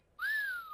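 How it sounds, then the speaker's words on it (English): A child's toy sound effects machine plays one short wolf whistle, a quick rising-then-falling electronic whistle, clear and alone. "a little bit of a wolf whistle"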